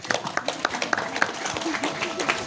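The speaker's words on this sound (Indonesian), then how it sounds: "Tepuk tangan buat Pak Kades" An audience claps in scattered, uneven bursts at the opening of a people's market festival held at a village poultry market in Petanahan, with voices mixed in throughout.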